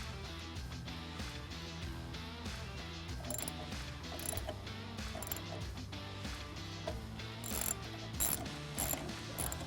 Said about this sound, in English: Tighten these up using a 10mm socket, but don't over tighten them